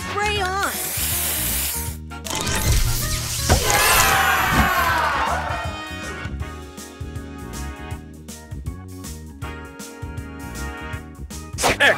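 Spray booster effect in the Match Masters game, a bright hissing spray burst with sizzling and cheering-like game sounds, followed by chiming effects and an announcer-style voice over steady game music.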